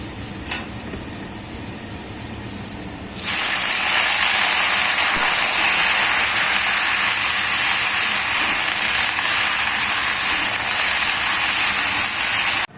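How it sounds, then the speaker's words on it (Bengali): Onion and garlic tempering sizzles in hot oil for a jute-leaf dish, a steady loud hiss that bursts in suddenly after a quiet start and holds without a break. "এই যে পেঁয়াজ আর রসুন ফোড়ন দিয়ে দিলাম"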